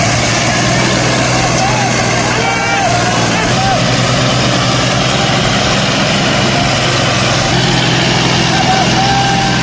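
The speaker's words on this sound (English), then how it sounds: "It is an oversized, overloaded, dangerous tractor." An oversized, overloaded tractor engine drones loudly and steadily throughout, a close, continuous low roar with no break.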